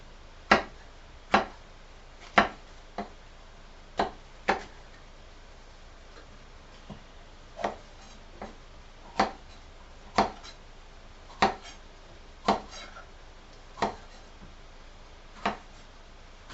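A knife chops through food on a cutting board in sharp, evenly spaced knocks. The strikes come in two quick runs with a gap between them, close and clear in a quiet kitchen.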